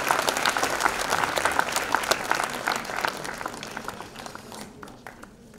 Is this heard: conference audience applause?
yes